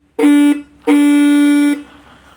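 An automatic bird-scaring horn set up in a cumin field sounds two loud, steady electronic honks, a short one then a longer one, close and alone with no voices.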